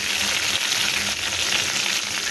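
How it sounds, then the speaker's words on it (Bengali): Onion and a bay leaf fried in hot oil left over from frying fish, a steady close sizzle that crackles on without a break and with no talk over it. "তেলের মধ্যে আমি পেঁয়াজটা দিয়ে দেবো, দিয়ে দেবো সাথে একটা তেজপাতা।"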